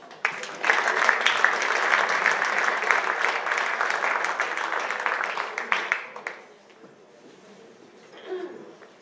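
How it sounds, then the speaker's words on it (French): Audience clapping at a school sports championship trophy ceremony, a dense steady round that thins into scattered claps and fades out, followed by brief murmuring voices. "On peut les applaudir."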